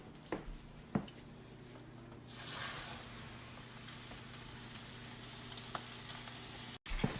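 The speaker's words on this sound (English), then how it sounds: "so now we can fry it" Coated fish lowered into preheated oil gives a steady, moderate frying sizzle after a brief rise in noise, with a few small clicks and a low steady hum underneath.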